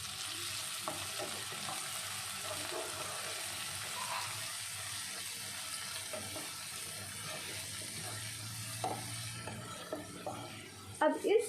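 Chopped medium-size tomato dropped into frying dal tadka, a soft continuous sizzle and faint stirring scrapes with a few louder clatters near the end, fairly quiet throughout.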